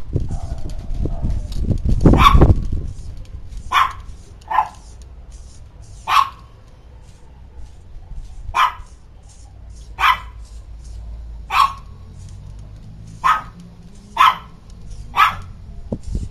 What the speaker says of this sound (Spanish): Perdonen tanto escándalo, pero es que esa perrita es pero bien latosa.